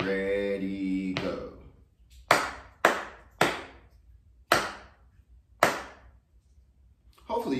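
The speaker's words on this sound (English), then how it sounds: "Let's see if you can add numbers to what I clapped." Hands clap out a simple counted rhythm in a music lesson: six crisp, close claps with clear gaps between them, some spaced wider than others. A speaking voice comes just before the claps and returns after them.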